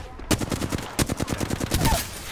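Rapid automatic gunfire in the video game Apex Legends, a loud burst of closely spaced shots after a short pause, then a second stuttering string of rounds.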